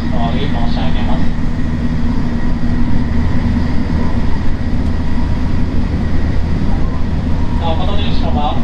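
Interior running noise of a JR 225 series 100 electric train on a Tokaido-Sanyo Line special rapid service between Himeji and Amagasaki: a steady loud rumble and hum, with a conductor's announcement chime and voice playing over it.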